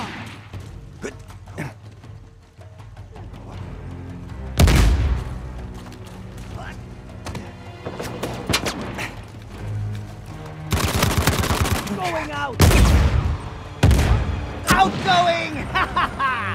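Gunfire erupts in a chaotic Uncharted 4 multiplayer firefight, with sharp single shots and dense bursts of automatic fire, some loud and close, others distant, mixed with players' shouting voices.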